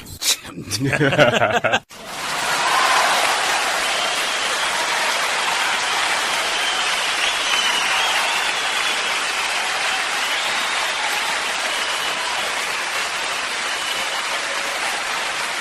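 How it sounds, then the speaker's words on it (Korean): Sustained, dense applause fills a political satire talk show studio after a brief voice at the start, steady and loud without pause to the end. "박수!"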